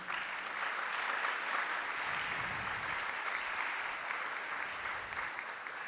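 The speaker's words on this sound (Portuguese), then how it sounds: "uma salva de palmas." Sustained applause from a conference audience welcoming a historian moderator at a talk in Campo Grande, steady and fairly loud throughout with no speech over it.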